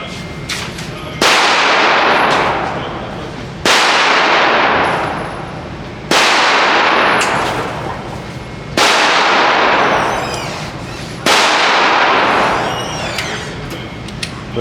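Five loud, sharp gunshots at an outdoor gun range, spaced a few seconds apart, each cracking close up and ringing out in a long decaying echo.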